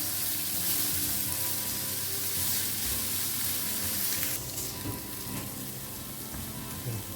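Onions fry in a pan toward golden brown for Goan prawn balchao, a continuous rain-like sizzle and crackle that stays steady and fairly close, easing slightly in brightness partway through.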